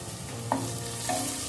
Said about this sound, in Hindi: प्याज लहसुन वगैरह जो भी मसाले हैं बहुत अच्छे से भून गए हैं